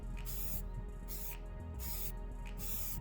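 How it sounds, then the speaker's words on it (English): Black spray paint hisses from a can onto a metal upper cabinet in several short, close bursts with brief pauses between them. "For the upper cabinet, we used a black spray paint we had on hand."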